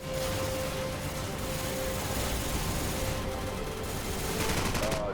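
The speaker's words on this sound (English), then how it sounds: "Then you see the building getting absolutely demolished, and thank the higher powers we have Hellfire missiles." In Call of Duty 4, a building is pounded into rubble by Hellfire missiles, heard as a dense, loud, unbroken roar of blasts and rattling gunfire layered over a steady mechanical drone.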